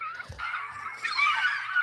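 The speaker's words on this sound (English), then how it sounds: "If I take a mouse, slow it down, it sounds like a seagull." A mouse squeak recording slowed down so it resembles a seagull's cry, a sustained wavering call that swells louder in its second half, heard close and alone.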